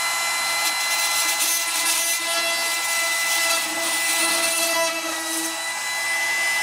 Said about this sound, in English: I will continue to do this until I have all my holes drilled.